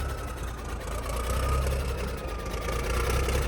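A diesel engine idles steadily on its own fuel, a close, continuous low rumble with a faint whine above it and no talk.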